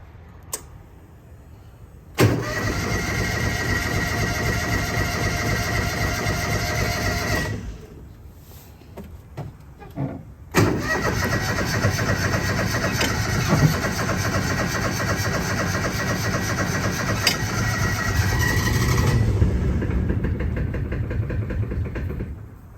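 A utility vehicle called a Mule with a tired battery is cold-started without choke on a February morning: a loud engine catches and runs, cuts out briefly, then fires again and idles steadily for a long stretch.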